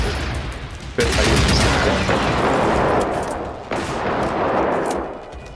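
Gunfire and explosions in the video game Generation Zero: loud bursts of booming blasts and rapid shots crashing in waves, one big hit near the start and another later, with little talk.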